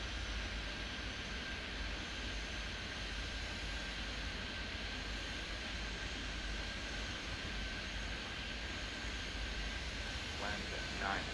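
Airplane engines in the airport game Airport Madness 3D give a steady, faint broadband jet roar with a constant whine, continuous and distant-sounding throughout.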